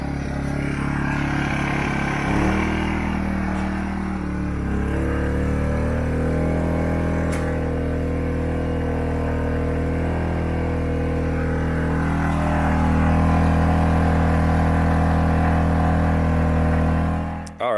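An AIVOLT 1600-watt quiet inverter generator runs steadily close by, a loud continuous engine drone with a low hum that shifts in pitch partway through and holds to the end, with no talking.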